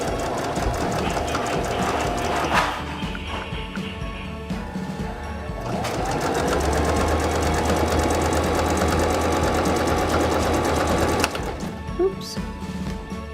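A sewing machine stitches a drawstring bag in fast, steady mechanical runs, near and loud, with short pauses between bursts of stitching.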